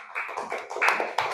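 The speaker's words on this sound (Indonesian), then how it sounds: "tepuk tangan untuk kita semua" A third-grade elementary classroom claps together in a few uneven bursts, close and fairly light, with brief gaps between them.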